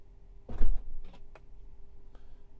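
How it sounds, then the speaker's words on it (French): The rear right door of a Tesla Model 3 or Model Y opens electrically by remote button, a low thud and latch release followed by a few quieter clicks and a faint whir, heard close in a quiet cabin. "un appui long sur le dernier bouton va ouvrir la porte arrière droite"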